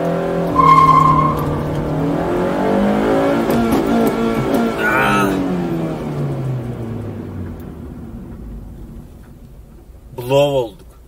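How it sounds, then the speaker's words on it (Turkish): A car engine is revved hard to the rev limiter, then the clutch drops at about 5000 rpm. A loud close roar sweeps down in pitch and fades, and a short sharp burst follows near the end. "Bakın kesiciye kadar bağırttırıyorum arabayı. Aşağı yukarı 5000 devirlerdeyken debriyajı bırakıyorum."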